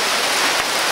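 Rain falling beside a river in the Philippines, a steady close wash of raindrops pattering on surfaces, continuous and fairly loud with no voices.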